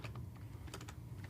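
Quick, light keystrokes on a computer keyboard, a short irregular burst of clicks heard close, with a low steady hum underneath.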